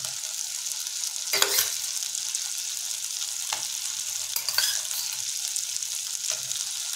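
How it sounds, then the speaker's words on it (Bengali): Chopped tomato with spices sizzles steadily in a hot wok while patal chingri (pointed gourd with prawns) cooks, a constant close frying hiss broken by a few brief stirring scrapes and knocks, with no talking. "এটাকে আমরা আরও ভালোভাবে কিছুক্ষণ কষিয়ে নেব যতক্ষণ না পর্যন্ত টমেটোর কাঁচা গন্ধটা না যায়"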